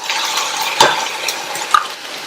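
Finely chopped onions sauté lightly in a pan for a radish side dish, giving a soft, steady frying hiss with a couple of sharp utensil clinks against the pan.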